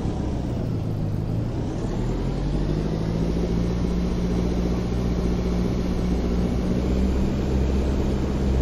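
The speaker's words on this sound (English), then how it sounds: "I am taking off Super Cub PA-18." Steady droning engine of a Piper Super Cub PA-18 light propeller plane on its takeoff run in X-Plane 12, a loud, continuous low rumble with a constant buzzing tone and no talking.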